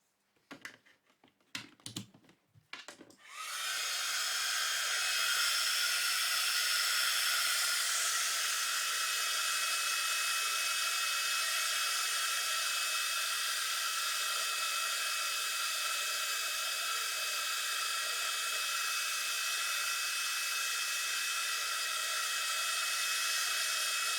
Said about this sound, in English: I'm just going to grab my heat tool quickly and give that a bit of a blast.